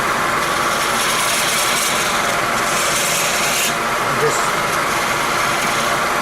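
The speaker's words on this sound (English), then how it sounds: "Get it fairly deep, then go with a skew with a high edge" A skew chisel cuts into an end grain wooden bowl spinning on a lathe, giving a continuous rough scraping, rasping hiss over a low motor rumble that runs loud and steady throughout.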